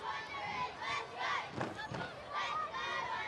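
Football crowd at Wanderers Football Park during an A-League match between Western Sydney Wanderers and Newcastle Jets, a steady roar of cheering and chanting that swells in waves, with a louder surge near the middle.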